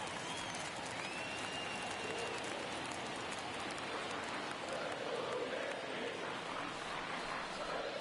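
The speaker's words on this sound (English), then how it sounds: "Crowd getting the chant going here at the stadium." Stadium crowd noise in a Blue Jays at Yankees baseball video game, a steady broad roar of chanting and booing that holds through the whole stretch without a break, loud and diffuse.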